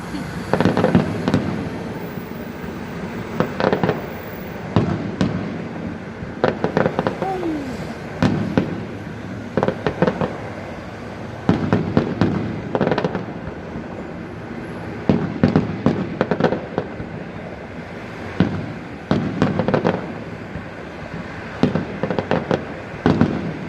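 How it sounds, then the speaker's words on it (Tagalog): New Year's Eve fireworks in Dubai burst repeatedly in clustered volleys of bangs and crackles, fairly loud at a moderate distance, with scattered voices and cheers in between. "fireworks."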